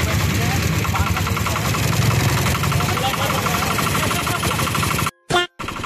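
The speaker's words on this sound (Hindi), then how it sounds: "एक पट पट पट पट की आवाज वो पूरे टाइम आती रहेगी" Loud, steady rhythmic putt-putt chugging of a boat engine running close by on the Ganga river, with a voice speaking over it and a brief dropout near the end.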